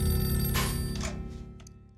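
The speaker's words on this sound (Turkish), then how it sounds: "telefon çaldı." A telephone ringing indoors, a loud close electronic ring sustained for about two seconds with a steady tonal buzz and fading at the end.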